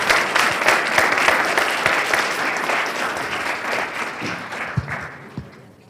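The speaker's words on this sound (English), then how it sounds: "let's have a round of applause for Team 3." An audience at a case competition applauds a finalist team, giving steady clapping that gradually thins and fades toward the end, with a few louder individual claps near the close.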